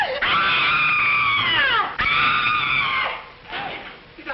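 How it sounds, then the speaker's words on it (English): A person screams in a 1939 film, two long, loud, piercing wails close by, each sliding downward, followed by a shorter, fainter cry. "Did I hear somebody scream?"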